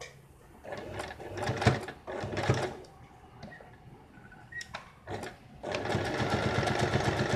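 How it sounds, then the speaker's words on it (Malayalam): A sewing machine stitches a hidden bra strap for a blouse, running in short bursts separated by pauses before settling into a steady, close rattling stitch at the end. "നമുക്ക് ഈ വശം ഇങ്ങനെ സ്റ്റിച്ച് ചെയ്ത് താഴേക്ക് സ്റ്റിച്ച് ചെയ്തിട്ട് ഇവിടേക്ക് ഇങ്ങനെ സ്റ്റിച്ച് ചെയ്യാം"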